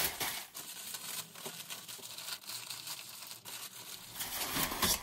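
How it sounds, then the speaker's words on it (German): Paper is twisted by hand into a ring, giving a quiet, steady rustling and crinkling that continues throughout with small crackling bursts. "jetzt brauche ich nochmal Papier und mache daraus so einen Ring"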